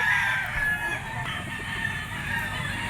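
A yellow-legged, straight-combed gamecock crows close by at a busy rooster market, its call rising over a steady hum of background noise.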